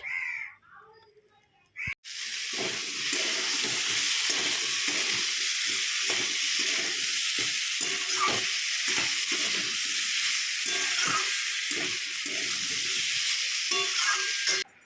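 Curry of potato, pointed gourd and pumpkin hits the pan and frying starts with a loud, steady sizzle that continues close by, with occasional stirring clatter; a voice is heard briefly just before.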